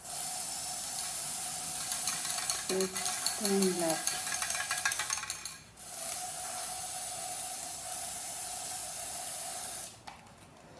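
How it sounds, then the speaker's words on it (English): A spray paint can sprays a screw with a close, steady hiss that runs for several seconds, cuts out briefly, then resumes for another long burst before stopping. Someone speaks briefly partway through. "And so I'm going to spray paint the screw."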